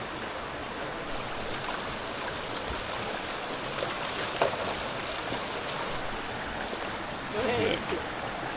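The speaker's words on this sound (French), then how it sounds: "On enlève les chaussures et on traverse la rivière" Runners wading barefoot across a river, with steady water rushing and splashing close by, a few louder splashes near the end, and occasional voices in the background.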